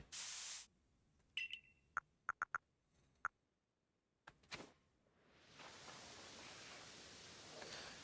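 Stealth Spray used in the video game Pokémon Legends Arceus: a loud opening spray hiss, then a row of sharp game beeps and clicks, and finally a long, steady soft hiss.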